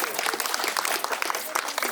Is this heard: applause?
yes